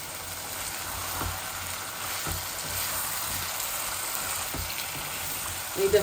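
Chicken sizzling and frying in hot oil for a Bangladeshi chicken and potato kosha bhuna, a steady broadband crackle throughout with small pops and a louder spatter near the end.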